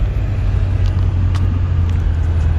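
Loud, steady low rumble of a Corvette Z06 engine running in a dyno shop, a close, constant drone with no talking.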